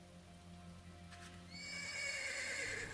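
Horses in the Ash of Gods video game whinny and neigh as hooves clip-clop along a road, with a faint rain-like hiss underneath and the neighing swelling louder in the second half.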